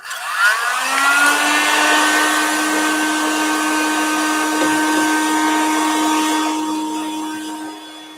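Hair dryer blowing gentle heat onto chocolate being tempered, a steady close whirring drone with a strong hum that starts abruptly and runs continuously, slowly fading at the end.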